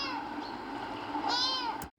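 Several high, harmonic kitten meows repeat close by in a rescue from a neighbor's backyard, the cries overlapping and ending abruptly.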